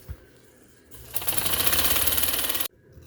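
A sewing machine stitches a neckline in one loud, rapid, even burst of about a second and a half, close by, between quieter handling sounds of the fabric.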